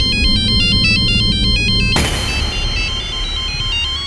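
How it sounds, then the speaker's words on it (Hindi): A mobile phone plays a repeating electronic ringtone melody, loud and close, over a background of music and sound effects. "तुम्हारा फोन बज रहा है"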